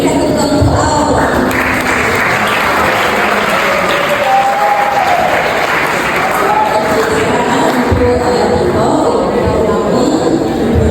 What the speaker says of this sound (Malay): berikan tepukan untuk awak